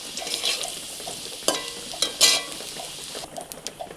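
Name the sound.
potatoes frying in oil, stirred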